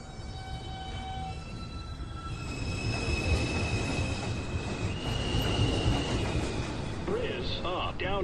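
A downtown express 2 train on the NYC Subway rolls into the 215th Street station, a long rising rumble with squealing wheels and high metallic tones, growing louder as it nears.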